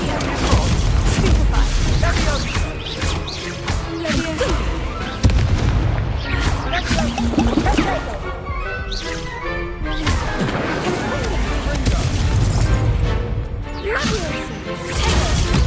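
Incendio fire spell blasts in Hogwarts Legacy during a chaotic battle, repeated fiery bursts, crashes and whooshing impacts, loud and dense throughout, with shouted voices in the mix.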